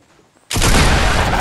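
Gunfire in the Fortnite video game bursts in abruptly after a quiet half second, then a loud, sustained rattle of rapid shots continues to the end.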